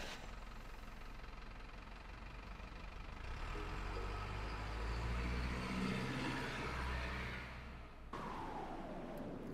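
A truck drives through a sandstorm in the video game Darkside Detective, its engine a steady, loud rumble with a rough knocking texture that swells in the middle and dips briefly near the end, with no talking.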